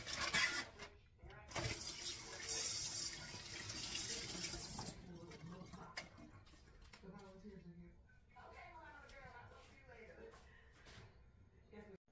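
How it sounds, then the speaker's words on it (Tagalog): Vinegar drains from chicken wings with a steady rush of pouring liquid for a few seconds, then quieter trickles and clinks, with a person talking over the later part. "i-drain ko na itong suka."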